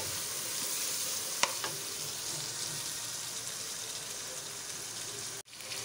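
Chicken fries in a pan for a chicken matar pulao, a steady, soft sizzle with light stirring, a couple of brief clinks, and a sudden cut near the end.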